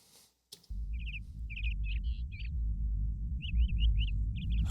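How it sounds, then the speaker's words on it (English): Small birds chirp in short, bright bursts of quick notes over a low, steady rumble of background noise. "The birds are nice."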